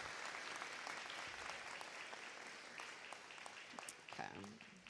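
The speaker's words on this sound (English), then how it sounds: "let's give her a round of applause" A graduation audience gives a sustained round of applause for a speaker at a school of information technology ceremony, a steady wash of many hands clapping, heard from a distance and fairly faint.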